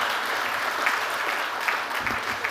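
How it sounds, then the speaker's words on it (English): An audience at a stage event applauds continuously, a dense wash of many hands clapping that holds steady throughout with no break. "Please, with a round of applause, Manish Mundra on the stage."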